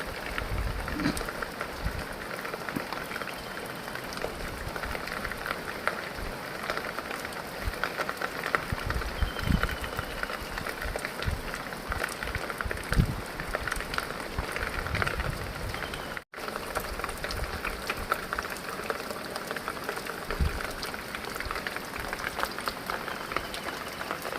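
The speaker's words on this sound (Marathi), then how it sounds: "आता आपल्या समोर पण बघताय तुम्ही पाऊस पडतोच आहे बारीक बारीक आहे" Steady fine patter of the season's first light rain in Devgad, Konkan, an even hiss with scattered soft drops throughout, no voices.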